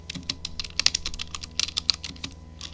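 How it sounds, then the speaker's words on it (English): Rapid clattering keystrokes on a computer keyboard while entering a package install command, a dense close run of crisp clicks with no talking. "we're going to type install package"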